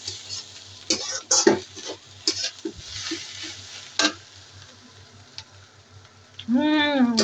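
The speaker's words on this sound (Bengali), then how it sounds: "এই যে কলাই শাক ভাজি হয়ে গেছে আমার।" Kalai greens frying in a pan while a spatula stirs and scrapes, making close clinks and a soft sizzle, with a voice rising briefly at the end.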